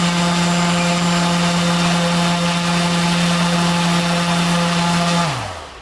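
A multirotor drone motor with its propeller spins up steadily on a dynamic balancing rig, giving a loud, constant tonal whine with strong harmonics that holds evenly and then winds down at the end.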